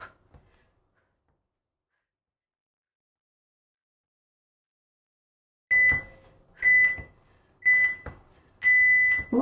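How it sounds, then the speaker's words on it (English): Workout interval timer buzzer sounding after a silent stretch: four loud electronic beeps in a row, the last held slightly longer, close and clear with no talk. "Right at the buzzer."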